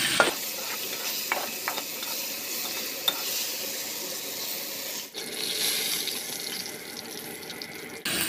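Whole spices for tempering hit a hot pan of boiled greens seasoned with salt and green chilli, giving a steady hissing sizzle for several seconds with a few sharp crackles and pops, then a brief dip before the sizzle resumes.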